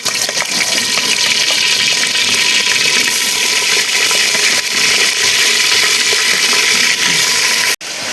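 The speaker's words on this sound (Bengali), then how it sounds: "মাংসটা ভেজে নেব।" Chicken meat frying in a pan of oil for handi chicken, a loud continuous hissing sizzle that fills the whole span, close and steady, ending with a brief cut near the end.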